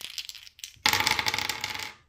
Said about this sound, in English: let's press our luck and roll some dice